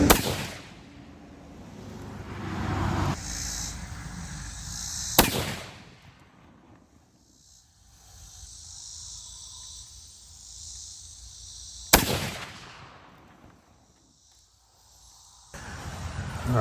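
Two sharp, loud rifle shots from a .308 Winchester firing compressed loads of Barnes 130-grain TTSX bullets, several seconds apart, each cracking outdoors and rolling away, with insects chirping quietly between.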